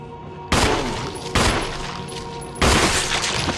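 Three sharp, loud handgun shots in the Resident Evil REmake survival horror game, each a sudden broadband blast with a lingering reverberant tail, spaced unevenly over a few seconds against a low ambient hum.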